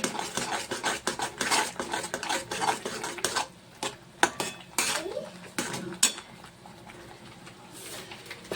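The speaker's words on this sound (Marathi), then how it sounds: "धने जिरे पावडर सगळं आपण मिक्स करून व्यवस्थित परतून घेऊया" Spice powders, including coriander and cumin, sautéed for matar paneer and stirred in a pan, a dense run of rapid metal spoon scrapes and clinks over faint sizzling that slows and thins toward the end.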